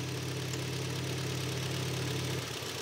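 A Hyundai Tucson engine idles nearby with a steady low, even rumble that shifts slightly near the end.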